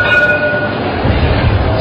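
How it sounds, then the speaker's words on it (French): A new tramway train on a technical test run in Rabat-Salé rumbles steadily and loudly close by, with continuous rolling wheel and motor noise and no voices. "démarrage des essais techniques du tramway"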